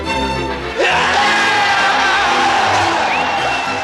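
A stadium crowd roars for a Miami Dolphins touchdown in 1985 NFL football: a loud, sustained wall of cheering, whoops and yells that surges in abruptly after a brief quieter lead-in with music-like tones.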